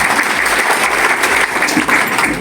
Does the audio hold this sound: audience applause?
yes